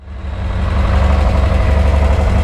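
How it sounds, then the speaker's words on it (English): A VW T3/T25 van engine warming up at idle, loud and close, with a steady low rumble and even mechanical throb that builds in the first moment and then holds. "I'm just going to warm up the engine and bleed it from the radiator"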